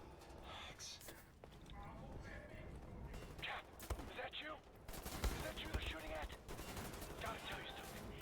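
Gunfire from Wolfenstein: The New Order, with scattered shots and bursts through dense game noise, louder clusters around the middle and end, while a player talks throughout.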